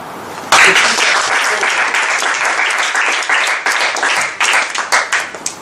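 A speaking-event audience bursts into loud, sustained applause that holds steady, then tapers into scattered, uneven claps near the end.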